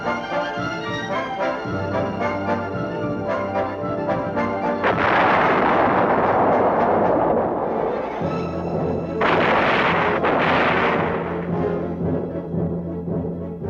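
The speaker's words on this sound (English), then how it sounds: "crews and their machines are put through 6 courses or tables to practice firing live ammunition from main guns and the tank's machine gun system" Tank main guns firing live ammunition on a military range, a series of heavy booming blasts with rumbling decay, loud and continuous under a layer of background music.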